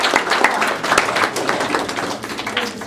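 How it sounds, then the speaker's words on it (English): Audience at a poetry reading in a library breaking into applause: dense, steady clapping from many hands, close and loud, with no talking over it. "Give yourselves a hand"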